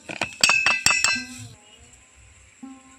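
A metal spoon clinks sharply against a bowl several times in quick succession while two spoonfuls of milk powder are added for a snack batter, close and bright, then ringing away into quiet kitchen background.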